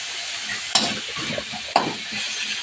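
Pork stir-frying with red curry paste in a hot pan, a constant crackling sizzle broken by two sharp spatula strikes about a second apart.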